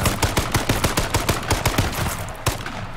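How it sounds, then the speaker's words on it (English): Rapid gunfire in the video game H1Z1, a fast, loud, evenly spaced string of about fifteen shots over three seconds, alone with no voices. "we're getting shot at"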